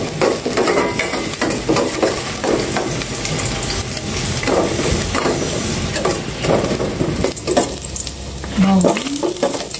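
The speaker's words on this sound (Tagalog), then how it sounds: "Igisa ko na po itong bawang muna." Garlic sautéing in a hot pan, sizzling loudly and continuously with repeated stirring scrapes throughout.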